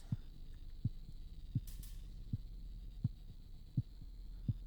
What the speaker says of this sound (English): I don't like the heartbeat sounds, though.